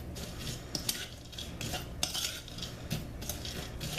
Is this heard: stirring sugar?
yes